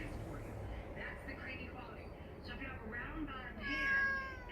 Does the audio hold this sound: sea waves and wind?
no